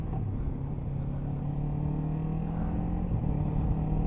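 Kawasaki Ninja 7 Hybrid motorcycle pulling away from a stop, its engine note rising steadily as it accelerates, heard close and continuous without talk.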